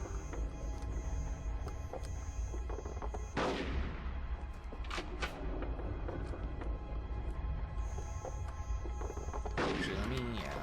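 Gunfire from the video game Conker's Bad Fur Day, heard as a few sharp blasts amid a busy, constant game soundtrack, with a louder burst near the middle and another near the end.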